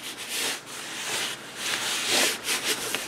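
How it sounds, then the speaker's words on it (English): A paper edge is burnished down on an envelope journal page with soft, close rubbing strokes that swell and fade in a quick back-and-forth rhythm. "And then you want to burnish it down nice."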